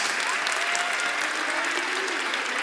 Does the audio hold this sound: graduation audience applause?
yes